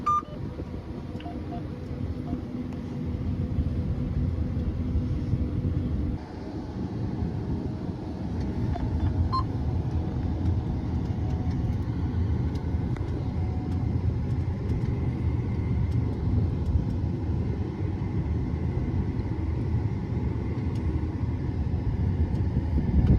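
Combine harvester running during a winter wheat harvest, heard from inside the cab as a steady, loud low engine rumble and drone that continues without a break.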